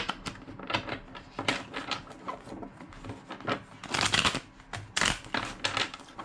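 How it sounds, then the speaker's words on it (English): A deck of tarot cards being shuffled by hand, quick irregular bursts of riffling and flicking with short pauses between, close and fairly loud, no talking. "Two more shuffles."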